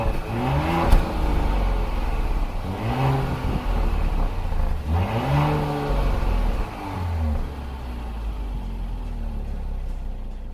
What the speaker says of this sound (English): Now listen to this engine.